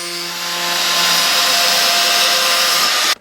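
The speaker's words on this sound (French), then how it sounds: "Un coup de meuleuse et on tranche tout ça." An angle grinder slices through a polyester roofing sheet in one continuous, loud, bright high-pitched cut with a steady whine that holds for about three seconds and then stops abruptly.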